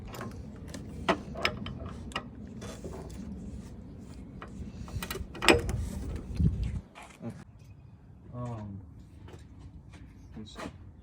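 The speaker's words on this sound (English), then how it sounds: "it's a bit of a hassle to get the ratchet in here" Ratchet wrench clicking in a cramped engine bay while a spark plug is removed from a Saab 9-2X Aero, giving a run of close, light ticks with a brief louder burst midway.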